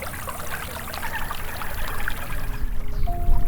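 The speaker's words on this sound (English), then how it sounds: "The sound of flowing water is very soothing" Water flowing in a stream at Circle B Bar Reserve, moving freshwater lettuce in a circle among cypress trees; a steady close trickling and pouring wash that grows slightly louder, with a faint tonal hum entering near the end.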